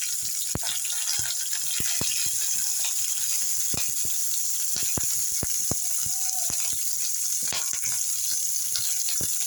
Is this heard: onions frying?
yes